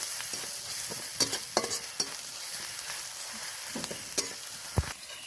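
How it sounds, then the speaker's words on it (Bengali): Masala with turmeric and chili powder fries in a pan, a steady sizzle broken by sharp scraping knocks of a spoon stirring against the metal, with no voices. "লঙ্কার গুঁড়ি দিয়ে দিলাম ভালো করে একটু কষিয়ে নেব মশলাটা"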